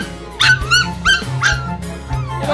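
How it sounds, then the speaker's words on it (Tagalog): Dogs and their puppies at home in a rural province, giving a run of high, rising whimpers and yips in quick repeated bursts, close and fairly loud over a low background hum. "Ito aso ko."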